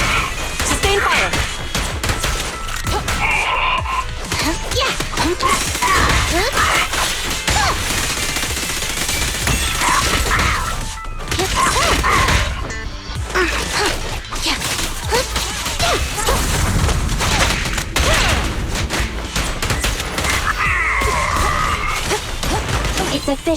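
Sustained gunfire in the video game Zenless Zone Zero, with dense bursts of shots, crashes and impacts rattling almost continuously for over twenty seconds, loud and close, briefly dropping away at a couple of points.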